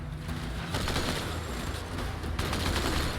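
Anti-aircraft guns in Halo 2 pound away in dense, continuous bursts of rapid fire, loud and overlapping with a brief lull before resuming.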